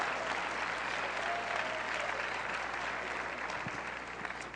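A church congregation at a São Paulo worship event breaks into steady, dense applause that holds for several seconds at an even level, tapering slightly near the end.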